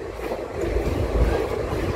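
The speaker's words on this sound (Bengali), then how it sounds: "এখন ডিজেল ইঞ্জিনে টানছে ট্রেনটিকে।" A long-distance Indian express train, the Silchar Express, now hauled by a diesel locomotive in place of a WAG9, rolls toward New Alipurduar with a steady, close, continuous rumble of wheels and carriages and no voices.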